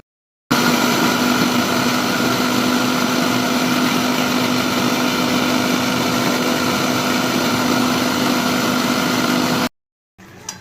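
An electric grinder whirs as poppy seeds and a little water are ground into a coarse paste for a potato-and-poppy-seed dish, a loud, steady motor drone that starts abruptly, runs about nine seconds, then cuts out.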